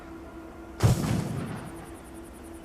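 An explosive charge detonates in the Hitman video game, a sudden close boom followed by a rumbling tail that fades over about a second, then a quiet background hum.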